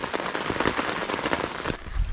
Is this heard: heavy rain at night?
yes